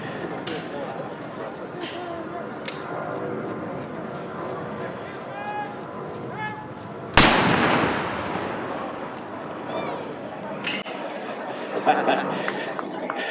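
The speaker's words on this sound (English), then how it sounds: "That's some big guns firing" Big guns fire at the opening ceremony of the Capel Military Show, one heavy blast booming out and rolling away, with smaller cracks and crowd murmur around it and people talking throughout.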